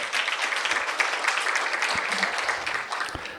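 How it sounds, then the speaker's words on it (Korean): Audience at a residents' briefing meeting in Yangjae 2-dong applauding a guest's introduction, a moderate, even patter of many hands clapping heard from some distance, continuing steadily for a few seconds. "뜨거운 박수 부탁드립니다."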